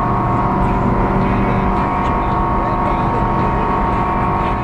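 A Highlander light aircraft takes off into a gusty crosswind, its engine a loud, steady drone that holds constant throughout, with wind buffeting underneath.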